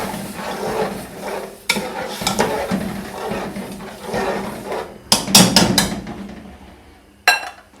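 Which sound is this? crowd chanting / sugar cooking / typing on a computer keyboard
sugar cooking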